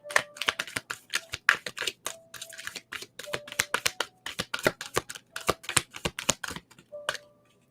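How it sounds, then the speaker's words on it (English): Cards being shuffled and drawn for a tarot-style card reading: a run of crisp, close riffling snaps and flicks in irregular bursts, no talk over them. "I'll pull a card for you."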